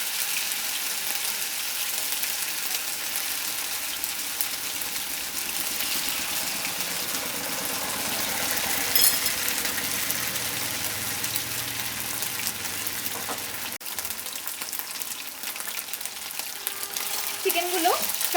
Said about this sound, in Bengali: চিকেনগুলোকেও আমি হালকা ব্রাউন করে ভেজে নিচ্ছি।